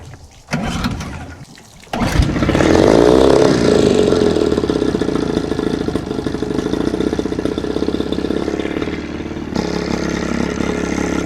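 A Johnson/Evinrude 9.9/15hp outboard engine is pull-started with the choke out after a few quick cranking pulls, then catches and runs at a steady, loud, close idle for several seconds.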